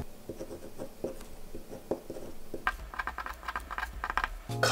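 A wooden ballpoint pen with a Jetstream refill writes on paper nearby, producing soft, quick ticking strokes that grow into denser scratchy scribbling, with a brief thump at the end.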